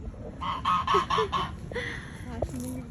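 Ducks and chickens call in an Italian village, a run of loud nasal honking quacks in quick succession followed by a few scattered softer clucks, close by with no talk.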